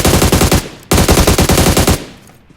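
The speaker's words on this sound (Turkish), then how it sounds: "sol tarafta bir atış. Silah sesine hemen gideriz." Rapid bursts of automatic gunfire from the PUBG Mobile battle royale game, two loud sustained volleys separated by a short gap, then fading out, with no talk.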